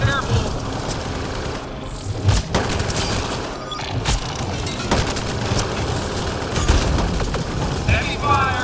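Enemy gunfire in Mass Effect Andromeda: dense, continuous firefight noise with repeated sharp shots and heavy booms, loud and close, with in-game voices calling out over it.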